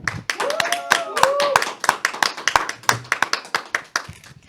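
A small audience at a Catholic faith talk evening claps close by in a loose, uneven run of distinct hand claps, with voices and cheering calls mixed in at the start.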